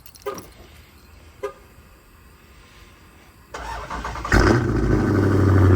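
A Dodge Charger engine cranks and catches on a cold start, roaring up loudly and settling into a steady, rough idle after a few quiet clicks.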